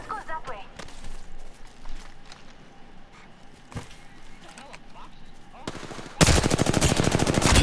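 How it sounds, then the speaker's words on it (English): Bursts of automatic gunfire in Apex Legends, scattered distant shots and footsteps under voices talking, then a sudden loud, close burst of rapid fire near the end. "Somebody shot. You heard that?"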